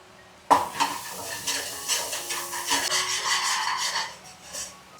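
Spice paste for a country-chicken curry stirred and cooking in a pot, a sudden onset of loud scraping, rasping stirs and steady sizzling that continues with uneven rhythm, close by, with no talk.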